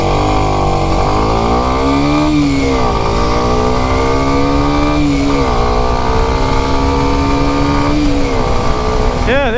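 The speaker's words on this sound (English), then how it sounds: "So you see there that I rev matched to the speed" A Kawasaki 125cc motorcycle engine revs during rev matching, its pitch climbing and dropping in repeated smooth sweeps, loud and close with a constant buzzy drone underneath.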